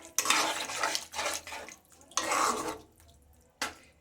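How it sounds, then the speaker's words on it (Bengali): Water poured into a pan of fried spices for a rohu fish head curry, a few short splashing and sizzling bursts with quiet gaps between, close and moderately loud. "মশলাটা আমার ভাজা হয়ে গেছে, এবারে জল ঢেলে দেবো।"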